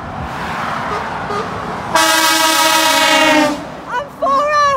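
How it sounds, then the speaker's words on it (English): A loud, sustained air horn on a DAF truck with four air horns blares for about two seconds after background noise, followed by shorter honking tones as it trails off. "And four air horns."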